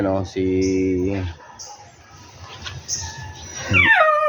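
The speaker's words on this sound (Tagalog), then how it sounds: "Yan na yung mga aso ko, yung golden retriever kong aso na si Brownie" A golden retriever whimpers and whines in long, high harmonic cries at close range, with a few short yips and quieter rustling between them.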